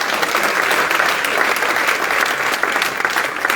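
A church congregation breaks into loud, sustained applause for a pastor, many hands clapping densely and evenly with a few crowd voices mixed in.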